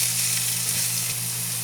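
Chopped white onion fries in a hot pan with milkfish, giving off a loud, steady, close sizzle that runs unbroken throughout.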